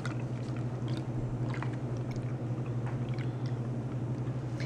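Wet vegan batter of maple syrup and vanilla is stirred in a bowl, giving a steady, soft squishing and sloshing texture throughout, fairly close and with no talking.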